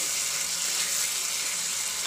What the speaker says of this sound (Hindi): इसमें डालेंगे थोड़ा पानी